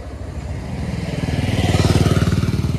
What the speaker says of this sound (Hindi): आ रही बाइक